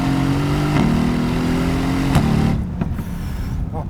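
A pink Mercedes-AMG GT-S with a 4-liter twin-turbo V8 idles close by in a steady loud rumble, with brief throttle blips that flare up and then settle back.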